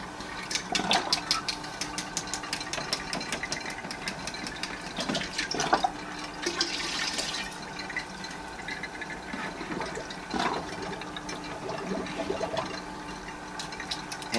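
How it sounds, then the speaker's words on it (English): Water from a storage container runs back through a reversed aquarium siphon hose into the tank, a steady continuous rushing and trickling with a few louder surges, close and alone. "I'm going to reverse my siphon and start it from my storage water and fill up from my storage water back up into the tank"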